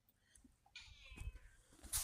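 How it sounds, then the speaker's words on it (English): A house cat meows once in the background of a quiet indoor room, a short, faint, drawn-out cry followed by soft rustling and small noises. "I'm gonna have my cat meowing in the background apparently"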